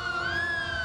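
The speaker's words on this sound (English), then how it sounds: "this is what the kids really look forward to, seeing the lights, the sirens." A wailing emergency-vehicle siren, police-style, rising in a continuous tone as units pass in the Greater Hartford Puerto Rican Parade, moderately loud and steady with no talking.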